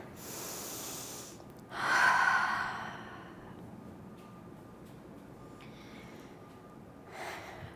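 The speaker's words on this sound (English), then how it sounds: "Take a full deep breath in with me." A deep inhaled and exhaled breath taken during a cardio workout rest pause, one loud breathy swell followed by quieter breathing and a softer breath near the end, no talking.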